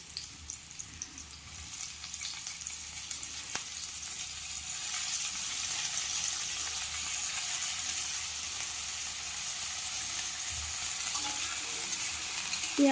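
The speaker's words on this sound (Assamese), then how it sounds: "পিঁয়াজবোৰ ৰঙচুৱা হোৱালৈকে ভাজিব।" Onions and green chillies fry in a pan for potato chops, a continuous hissing sizzle that swells slightly over about thirteen seconds, close and alone with no voices.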